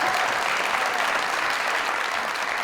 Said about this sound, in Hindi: नहीं, अरे मेरे लिए ताली।